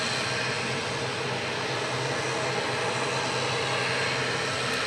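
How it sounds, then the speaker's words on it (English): Steady, loud drone of an ATR turboprop's propellers and engines at Southend Airport, a continuous broadband roar holding level and close throughout with no break. "Great sounds that you're getting there from the ATR"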